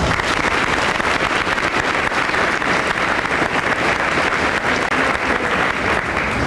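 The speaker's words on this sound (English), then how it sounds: "Let's give them a round of applause." A large crowd at a school honor awards assembly applauds in a loud, thick, unbroken wash of clapping that holds steady from start to finish.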